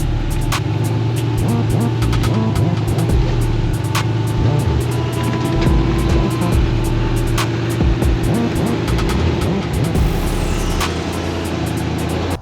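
A rear steer rock buggy crawling over boulders, with a steady engine rumble, intermittent clicks and knocks from the drivetrain and rocks, and the drone continuing close throughout.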